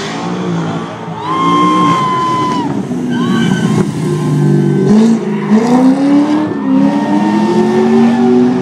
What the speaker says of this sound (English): the Corvette Z06. This car is something to behold. Listen to her.